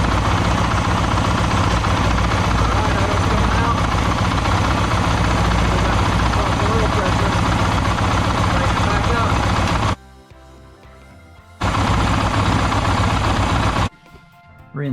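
A Yamaha WR250F motorcycle engine runs with a loud, steady, close rumble that cuts out abruptly twice near the end, then returns briefly. A voice seems to speak faintly over it.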